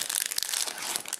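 Foil wrapper of a 2014-15 Upper Deck Series 1 hockey trading card pack torn open, giving a brief, close burst of crinkling and crackling plastic with no speech.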